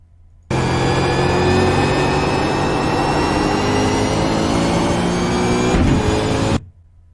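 A V8 Supercar engine in the iRacing game at Phillip Island gives a loud, steady, close drone whose pitch climbs slowly under throttle, running alone for about six seconds before cutting off abruptly.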